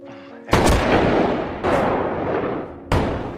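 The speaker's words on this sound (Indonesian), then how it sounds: "Tak lama Edward ditembak oleh penyamun yang bersembunyi di atas bukit." Three loud, sharp gunshots from bandits hidden on a hill in a desert survival film, each a booming crack with a long echoing tail, spaced about a second apart.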